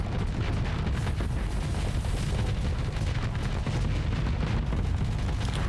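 Sustained barrage of weapons fire pounding a station hangar bay in the space combat game Starsector, a dense, continuous rumble of booms and blasts at steady loudness throughout, with no voices.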